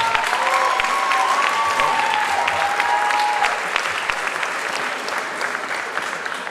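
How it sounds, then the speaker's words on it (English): Audience applauding at a high school class of 2017 graduation convocation, steady sustained clapping from a large crowd throughout, loud and close, slowly thinning toward the end. "So give them a round of applause,"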